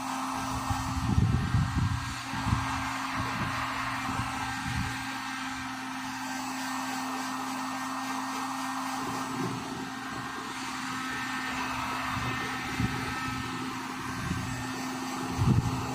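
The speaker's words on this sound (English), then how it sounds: "Okay, so I got a heat gun and I got it on high" A heat gun set on high blows hot air across a plastic rain gutter, making a steady whooshing hum with a constant tonal whine and occasional soft knocks and handling bumps throughout.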